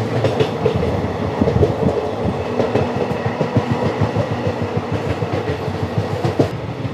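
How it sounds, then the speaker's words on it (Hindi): A train rolls past close by at Nagargali railway station, with a steady loud rumble and rhythmic clickety-clack of wheels over rail joints throughout, and no one talking. "ये है नागरगली रेलवे स्टेशन, नागरगली।"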